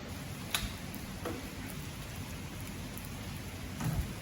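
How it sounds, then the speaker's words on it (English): Steady rain pours at a resort in Jomtien, Pattaya, during the Thai rainy season, a dense even hiss with a few sharper drip taps, fairly faint and heard alone. "But yeah, it's been raining."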